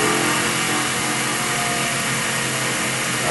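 A CNC machine drives steadily back to its origin with a loud, continuous motor whine and mechanical hum that holds at close range throughout, and no talk.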